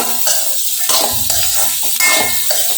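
Small onions and mutton keema sautéing in a pan, loud close sizzling with repeated scraping stirs at a steady rhythm.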